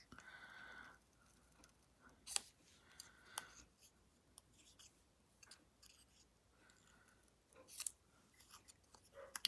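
Scissors snip through paper during paper piecing, a handful of quiet, sharp cuts scattered across a hushed room with long pauses between them.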